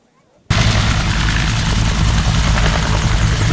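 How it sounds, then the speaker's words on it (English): Vietnam-era Huey helicopter rotors kick in abruptly after a brief quiet moment at an air show, a loud, continuous rhythmic thudding and roar very close by. "Telltale sounds of the Huey helicopters, massive rotors greet you long before you even see the vintage aircraft"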